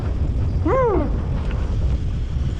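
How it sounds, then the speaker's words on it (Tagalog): Strong wind at Upper Seletar Reservoir buffets the microphone in a constant low rumble, with a brief rising-and-falling tonal whine partway through. "Lakas ng hangin."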